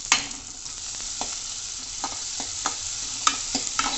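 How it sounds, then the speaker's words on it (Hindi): Onion frying in a pan for dal makhani, a steady soft sizzle punctuated by several sharp scraping stirs of a spoon, close up with no talk. "गोल्डन ब्राउन होने तक हम इस प्याज को अच्छे से भूनेंगे"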